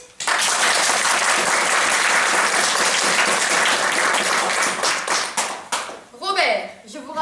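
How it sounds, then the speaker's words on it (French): Loud, dense applause from a crowd fills the room for several seconds, then fades out as a voice begins speaking. "C'est bien choisi, on l'applaudit."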